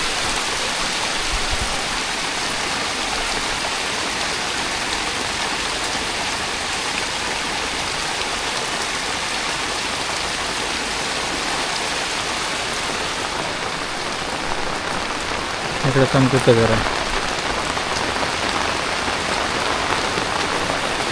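Steady heavy rain pours and water runs past an old village house in Konkan, a dense continuous wash throughout, with a brief louder splash near the end and a voice speaking briefly.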